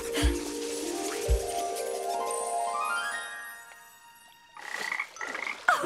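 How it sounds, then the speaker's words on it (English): Cartoon frog croaking in a kids' cartoon by a pond: rising, stretched tonal croaks over a light musical backdrop, followed by a few brighter chirpy croaks at the end. "Still not found your family, little frog?"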